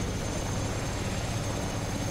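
An SH-2 helicopter descending in the FSX flight simulator game, its rotor and turbine giving a steady, dense, loud drone with a faint high whine, continuous and unchanging throughout.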